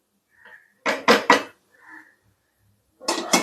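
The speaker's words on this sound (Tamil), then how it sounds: "இப்போ மூடி வச்சுக்கலாம்." A metal lid is set onto a cooking pot while making a semolina sweet snack, giving two or three close clanks in quick succession, a brief pause, then another pair of metallic knocks.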